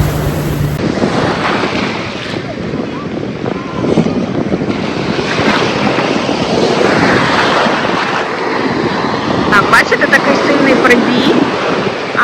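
Strong sea waves at a beach in Spain, a constant loud surf roar mixed with heavy wind buffeting the microphone, with a voice speaking over it.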